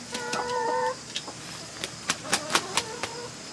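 A rooster gives a drawn-out, wavering call, then a string of short, sharp clucks spaced irregularly, close by.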